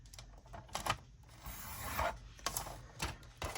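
Paper card being trimmed for a Christmas journal, faint rasping cuts and short scraping strokes in irregular bursts, close and quiet with no talking.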